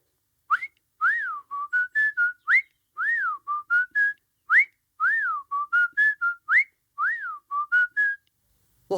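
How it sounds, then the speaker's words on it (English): A person whistles a strange tune alone, a bright, clear melody of short repeated phrases with rising and falling slides, steady and close with brief gaps between notes. "he started to whistle a strange tune"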